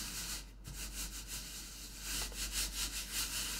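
Ash being rubbed by hand into a painted wooden board, a soft, steady scrubbing friction that swells in repeated strokes toward the end, with no talking.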